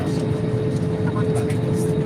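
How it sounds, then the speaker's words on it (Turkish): Airliner cabin during takeoff, with a steady loud low-frequency engine roar and rumble filling the whole stretch without a break, and faint voices in the cabin underneath. "Evet uçak kalkıyor."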